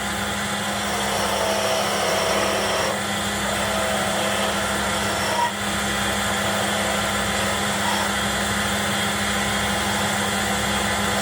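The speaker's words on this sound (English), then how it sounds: "now I'm going to do peeling." A wood lathe turns steadily while a skew chisel takes a peeling cut along the spinning workpiece, a continuous loud whirring drone with a faint hiss and a brief tick midway, alone without talk.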